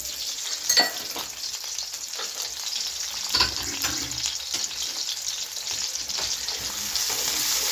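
Onions browning in a hot pan sizzle steadily, a close crackling hiss with occasional stirring scrapes and clinks throughout.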